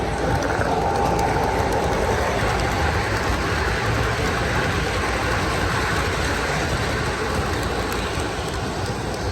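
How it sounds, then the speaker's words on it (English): A model Southern high hood diesel locomotive pulling a freight train rumbles along in a steady, unbroken whir and clatter, close by and fairly loud for the whole stretch. "Here is a Southern high hood diesel pulling a freight train."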